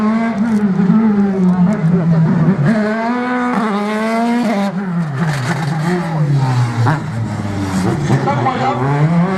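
A race car at a slalom event in Agon-Coutainville revs hard through rising and falling gears, accelerating and braking loudly and close by, while someone talks excitedly over it.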